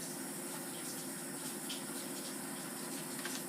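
Italian seasoning sprayed onto a ham, a steady close hiss of spray running unbroken throughout.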